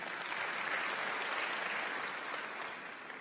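An audience claps for the government at a talk in Kigali, a steady, even wash of many hands clapping together, fairly faint and distant, holding level before easing slightly at the end.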